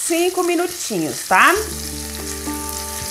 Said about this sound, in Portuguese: E agora você vai deixar a sua carne aqui, ó, fritando